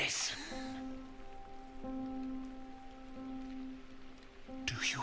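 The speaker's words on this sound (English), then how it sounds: "Do you hear it? The rain." Steady rain patters and hisses throughout, with a faint sustained tonal hum underneath and brief louder swells at the start and end.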